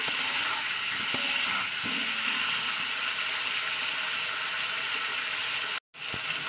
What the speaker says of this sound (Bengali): আমি তো হাই ফ্লেমে আমি পুরো পাঁচ মিনিট ধরে চিকেনটাকে ভেজে নিয়েছি